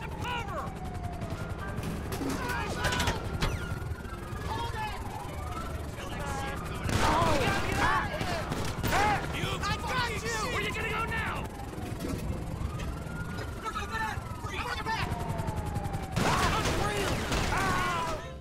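Enemy gunfire in GTA 5, scattered bursts of shots and clattering mechanisms over a steady engine-like drone, with a sweeping whine and heavier volleys near the middle and end; a voice talks over much of it.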